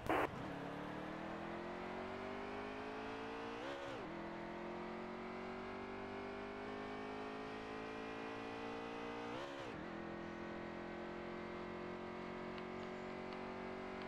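A NASCAR stock car with a restrictor-plate engine in NASCAR Heat 3 accelerating out of pit road, its engine note climbing steadily through the gears with two brief shift dips, a continuous, moderately quiet drone with no talk.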